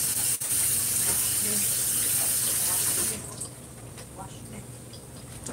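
Tap water runs steadily into a kitchen sink while parsley is washed under it, a loud broadband rush that suddenly drops to a quieter trickle partway through.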